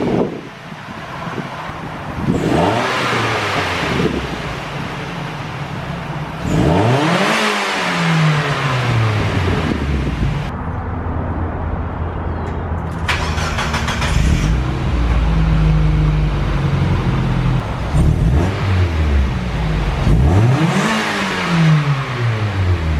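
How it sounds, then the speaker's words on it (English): Mazda Miata engine fitted with new headers and a stock exhaust, revved repeatedly from idle in several sharp rising and falling sweeps, loud and close, with wind noise on the microphone between pulls. "we're gonna start this thing up, let it warm up a little bit, and then give it the same revs that we did before"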